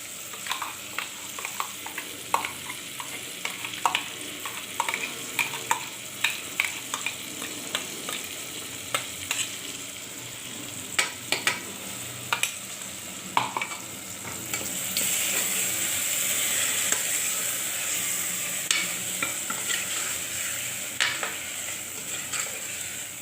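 Peanuts roasting in a pan with sesame and coconut, loud sharp scrapes and clicks of stirring over a dry crackling sizzle, with a broader hiss swelling partway through.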